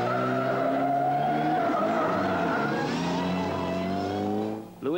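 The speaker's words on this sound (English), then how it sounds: "remember what Penti was saying about the need to be precise and avoid sideways driving?" A Vauxhall Astra GTE rally car slides sideways on gravel, its engine holding a steady high-revving drone with a long tire scrub that sweeps in pitch, fairly close and loud, ending with a brief dip.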